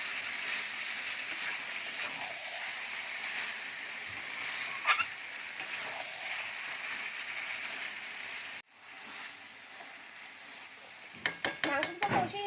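Capsicum sautéing in a kadai for kadai chicken, a soft steady sizzle with occasional clinks, a brief drop-out, then a quick burst of metal utensil scraping and tapping against the pan near the end.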